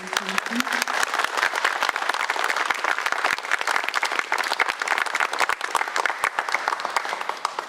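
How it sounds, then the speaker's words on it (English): Audience applause for a group of horsewomen, sustained loud clapping with crisp individual claps, steady for the whole span without a break. "Let's give them a round of applause"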